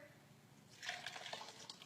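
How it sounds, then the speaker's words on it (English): Water poured from a measuring cup into a hot Instant Pot: a short, soft splashing pour starting partway through, fairly quiet and close. "I'm gonna just pour my water in here to see how much water we lost"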